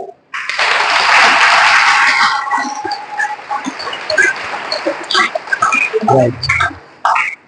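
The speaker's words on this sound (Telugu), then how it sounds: "10 క్లాప్స్ చేయాలి." Crowd at a health education talk claps together in a loud, dense burst that fades after about three seconds into scattered claps, murmurs and stray voices.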